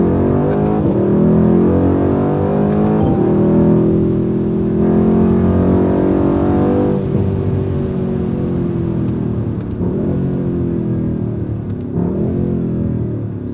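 A 2019/2020 facelift Mercedes-AMG C63 S engine and exhaust drone loudly and steadily from close by, the pitch rising and falling as the car downshifts, with no voices.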